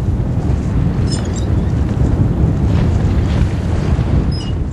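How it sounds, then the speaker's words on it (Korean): Strong wind roars across the sea around a small boat, a loud continuous buffeting rush with heavy low-end wind noise on the microphone and faint higher whistles, no talk. "오늘따라 바람이 왜 이리 거센지"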